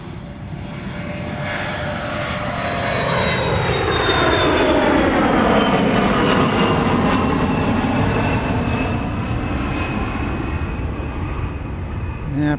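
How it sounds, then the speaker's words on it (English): An airplane takes off at Dallas Love Field, its jet roar building from a distance to a loud, sustained peak with a whining tone before slowly easing as it climbs away. "let's see if we can try another takeoff here."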